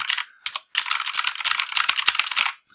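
Fast bursts of computer keyboard typing, close and crisp, with a couple of short pauses between runs of keystrokes and no talking.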